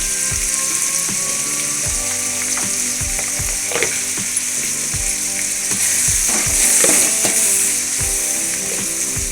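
Tomatoes salted and sautéing in a pan for a fish curry give off a steady, loud sizzle, with repeated scraping and clicking strokes of a utensil against the pan throughout.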